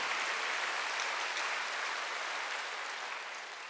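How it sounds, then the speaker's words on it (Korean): Church congregation clapping together during a sermon, a dense steady wash of many hands held at an even level throughout, easing off slightly toward the end. "깨달은 사람만 박수 쳐봐."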